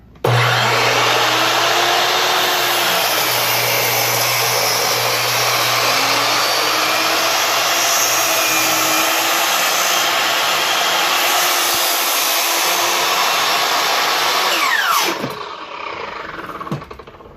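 A loud Ridgid R4222 sliding miter saw roars steadily for about fifteen seconds cutting a 6x6 wooden post, then winds down as the blade spins to a stop.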